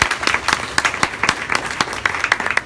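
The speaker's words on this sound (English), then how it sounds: "Let's give Amy a round of applause." Applause from an audience welcoming a woman named Amy to speak, a steady patter of many hands clapping, moderately loud and close, with irregular sharper claps standing out through the whole stretch.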